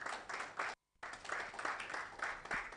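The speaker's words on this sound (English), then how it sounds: "Please welcome with a round of applause." A quiet round of clapping from an audience welcoming a keynote speaker at a competition launch event, steady and moderately distant, broken by a brief dropout near the start.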